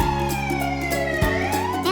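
A toy fire truck from a glowing animal vehicle set sounds a continuous wailing electronic siren, loud and close, with tones sliding up and down throughout.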